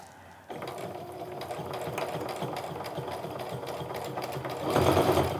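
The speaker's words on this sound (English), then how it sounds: "you can sew right over a zipper" A sewing machine stitching over a bulky zipper area runs steadily with a rapid, rhythmic stitching chatter, close by, growing slightly louder and heavier toward the end.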